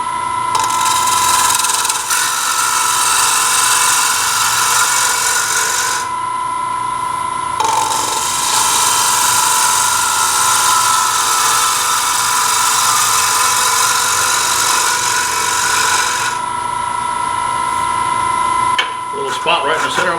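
Bowl gouge riding the bevel as it cuts a wooden bowl on a lathe, a steady loud shearing hiss over the motor's hum that drops out briefly twice, with someone talking over it.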